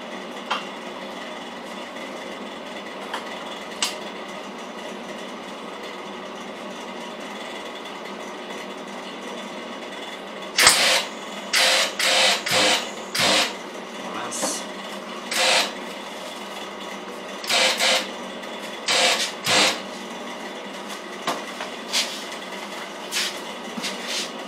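Short bursts of MIG tack welding on a steel industrial kitchen table, several sharp crackling zaps in the second half, fairly close, over a steady background hum.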